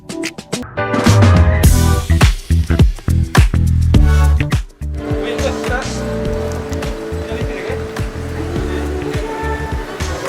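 A Hyundai Kona electric car driving, heard as a steady broadband rush of road and cabin noise that settles in after a louder, busier opening where voices are also heard.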